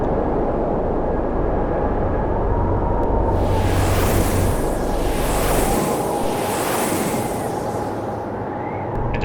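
A violent rushing wind sound effect, a steady loud roar with hissing gusts that swell and fade midway, filling the whole clip with no speech.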